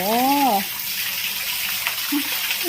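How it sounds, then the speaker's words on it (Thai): Water from a small waterfall and fountain splashes in a steady, continuous rush, close and fairly loud. A voice is briefly heard at the very start. "มีเสียงน้ำตกน้ำพุด้วยนะคะ"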